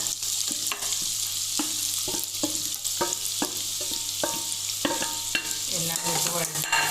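Onion, shallots, garlic, ginger and green chillies frying in hot oil, a constant bright sizzle broken by regular metallic scrapes of a spoon stirring, close up with no voices.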